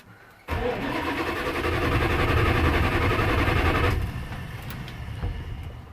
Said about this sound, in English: So let's see if it'll start.